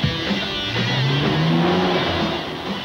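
A 1996 Nissan Skyline GTR V-spec with race-car suspension roars past, its engine note rising and falling in pitch through one continuous, loud pass.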